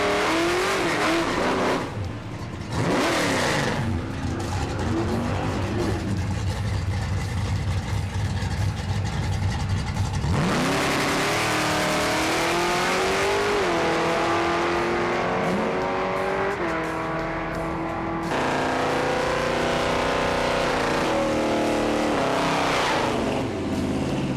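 Drag racing cars rev and launch hard from the starting line, engines roaring up through rising pitch sweeps with tire squeal, several loud passes in succession, some idling between runs, no talking.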